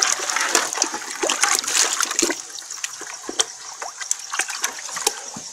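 Cleaned, gutted tilapia being rinsed by hand in a tub of water outdoors at night, with steady splashing, sloshing and dripping throughout and sharper splashes as the fish are moved about.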